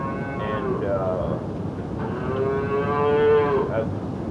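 A dairy cow on a farm lets out two long, loud moos, the second deeper and more drawn out, against a quiet background.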